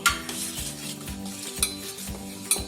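A ladle mixes yogurt with gram flour in a bowl, making soft scraping clinks against the sides with a couple of sharper knocks. The sounds are quiet and close, and no one speaks.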